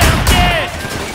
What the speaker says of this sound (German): Ah, Schießerei.